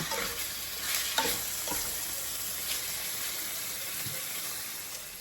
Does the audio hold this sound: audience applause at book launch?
no